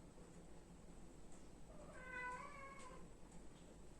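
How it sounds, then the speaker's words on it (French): A cat lets out a protesting meow, a single drawn-out mid-pitched cry rising and falling over steady low room hiss, fairly faint and with no talking. "j'ai un chat qui proteste, qui doit dire non, je ne suis pas d'accord"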